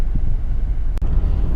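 Steady low road rumble and wind hiss fill the cabin of a 2020 Lexus GX460 cruising at highway speed, with one brief click partway through and no talking.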